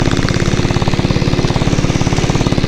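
A diesel Bullet motorcycle thumps steadily while riding, its loud, fast, even exhaust pulses close and continuous over a rough low rumble, with no voices.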